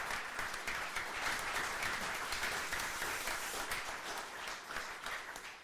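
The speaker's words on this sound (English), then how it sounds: "can I just get you to give your round of applause again for James Beattie and Mark Dennis" A live football podcast audience at St Mary's applauds returning guests, a sustained wash of clapping from a crowd that stays even, then tapers slightly at the end.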